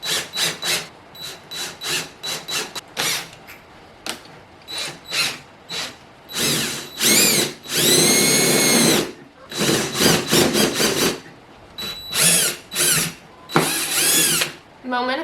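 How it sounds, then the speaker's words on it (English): Power drill with a large bit enlarging a hole for a water pump switch in a van plumbing build, running in loud repeated bursts of whirring and grinding, some long, separated by short pauses. "I have this giant drill bit that I'm going to drill in, make this hole a tiny bit bigger"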